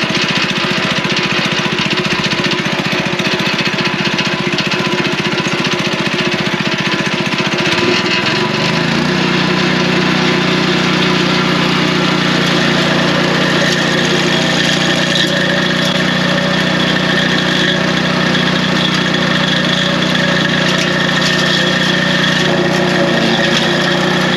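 Engine of a machine burying invisible dog fence wire into a lawn trench, a loud continuous mid-pitched drone that rises as the throttle opens after several seconds, then runs steadily with no talk.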